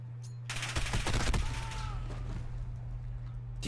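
Burst of automatic gunfire in the video game Call of Duty: Modern Warfare, a rapid string of close, sharp shots that quickly fades into a steady background hum.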